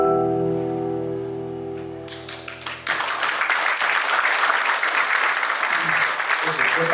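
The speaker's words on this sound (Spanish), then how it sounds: "Un aplauso para Diego" An auditorium audience in Pichilemu applauds author Diego at his book launch; a speaking voice gives way after about three seconds to loud, sustained clapping from a full room.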